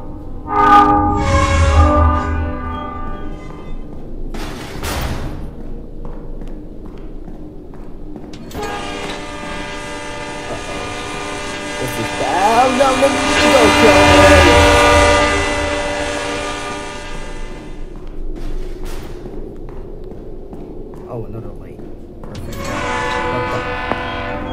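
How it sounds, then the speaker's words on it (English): A loud train horn sounds in long blasts while a train rumbles past in a Roblox train tunnel game, with rail clatter and a pause between horn calls before another starts. "I hear a horn and a train. I think it might be a train horn."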